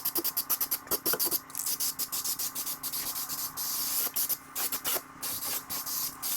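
Repeated short bursts of aerosol spray as BIN primer is applied to mold spots on a water-damaged wall, with quick hissing pulses close by and a few longer sprays and no talk.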